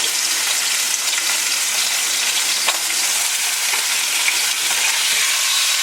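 A pork roast for carnitas sears in a hot pan, giving off a loud, continuous hissing sizzle that stays even and unbroken throughout, with faint crackles scattered through it and no talking.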